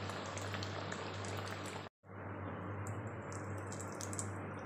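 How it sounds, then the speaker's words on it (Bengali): Bhetki fish fries in hot oil, a steady close crackling sizzle with a low hum underneath, broken by a brief silent gap before the bubbling resumes. "ফিশ ফ্রাইটা ভাজা হচ্ছে"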